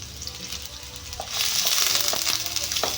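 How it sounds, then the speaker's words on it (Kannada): Green chilies and onions fry for a Sunday mutton sambar, a steady close sizzle that swells louder halfway through, with brief scraping stir strokes near the end and no talking. "ಮೆಣಸಿನಕಾಯಿ ಈರುಳ್ಳಿ ಫ್ರೈ ಮಾಡ್ತೇವೆ"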